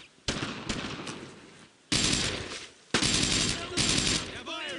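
Bursts of gunfire in the World War II shooter Brothers In Arms: Road To Hill 30, with loud overlapping rifle and machine-gun volleys in three long sustained stretches separated by brief lulls, close and dense.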